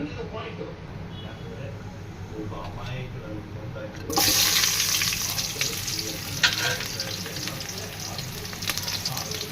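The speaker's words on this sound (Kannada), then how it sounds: "ಈರುಳ್ಳಿ ಸ್ವಲ್ಪ ಚೆನ್ನಾಗಿ ಕೆಂಪತ್ತ ಮಟ್ಟಿಗೆ ಸ್ವಲ್ಪ ಹುರಿದು" After a quiet stretch with a voice, a sudden loud sizzle bursts up as onions hit hot oil, then steady frying hiss with stirring scrapes continues.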